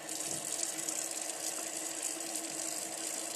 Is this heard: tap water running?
yes